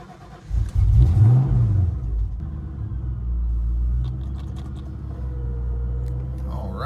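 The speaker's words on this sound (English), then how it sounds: "let's go ahead and try to start this thing up" A Ford Mustang Fox Body engine cranks and catches, revs up with a rising roar, then settles into a steady rumbling idle close by.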